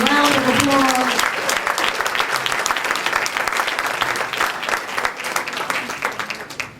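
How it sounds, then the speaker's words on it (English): Banquet audience applauding its past presidents, a dense, loud wash of clapping that begins under a voice and slowly tapers off near the end. "Let's give all our past presidents another warm round of applause."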